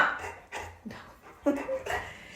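A pet dog whining for food: a few short, soft whimpers and yips in quick succession, close by and mixed with a person talking.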